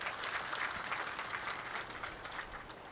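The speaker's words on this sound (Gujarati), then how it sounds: "ચૈતરભાઈ માટે એકવાર આપણે જોરદાર તાળીઓ પાડીએ" An audience at a political gathering claps steadily for Chaitar Vasava, a dense, even patter of many hands heard from a distance at moderate volume, without voices.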